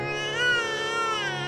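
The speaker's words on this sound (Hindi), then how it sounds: "इस बच्ची के रोने की आवाज सुन रहे हो?" A baby girl cries in a continuous, high, strained wail with a steady tonal pitch, sustained without pause over a low background hum.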